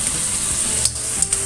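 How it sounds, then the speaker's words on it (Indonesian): Bay leaves, lemongrass and lime leaves fry in hot oil for fish pindang, a steady close sizzle with a couple of brief soft clicks; no talking. "Digoreng terlebih dahulu ya, biarkan sampai matang."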